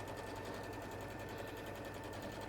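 A sewing machine stitches a Betty dress in a steady, continuous run at a quiet level, its rapid mechanical hum unbroken throughout with no voices.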